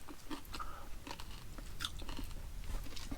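Someone chews crunchy paella with small mussels, cooked at a truck campsite in Portugal, producing close, steady crunching and mastication sounds, quiet and alone without talk.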